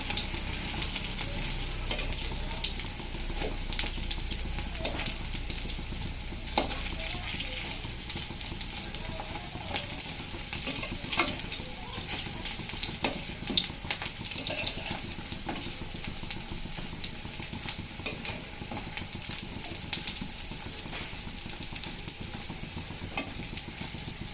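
Cauliflower fritters (bora) fry in hot oil with a dense, continuous sizzle and scattered pops and crackles, close and steady throughout, with occasional soft scraping as they are turned.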